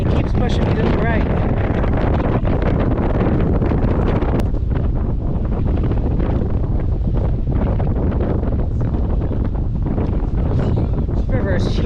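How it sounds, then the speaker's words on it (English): Strong wind roars continuously into the microphone at the Grand Canyon, a heavy buffeting rumble that stays loud and steady throughout. "Oh my god, it's so windy."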